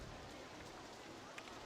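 Rain falling in RollerCoaster Tycoon, a faint, steady hiss of drops over a quiet game scene without any break.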